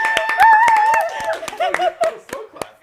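Several people on a live watercolor painting stream do a slow clap: a run of distinct, evenly spaced hand claps close by, with chatter and light chuckling around them.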